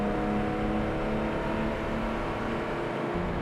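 1973 Ferrari Daytona engine pulling hard at full throttle in third gear on an open highway, a loud sustained roar from inside the cabin that holds steady with faint tonal whine overhead.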